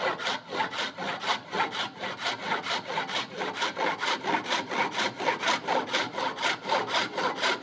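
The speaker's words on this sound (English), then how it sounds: "It's quicker to just cut the waste wood off with a saw." Hand saw cutting off waste wood while making a marking gauge, a steady rhythmic back-and-forth rasp of close strokes, evenly paced and alone without talk.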